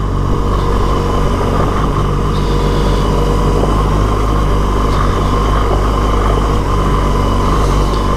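A vehicle engine drones steadily in low gear along a dirt track at Horans Track, Tallarook, Victoria, Australia, with loud continuous rumble and road noise throughout and no talking.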